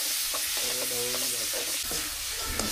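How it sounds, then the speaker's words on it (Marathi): Raw mango pieces tossed in a spiced tempering sizzle softly in the pan, with irregular scraping stir strokes over a constant hiss. "हे सर्व फोडणीमध्ये घालून अशा प्रकारे सर्व ढवळून"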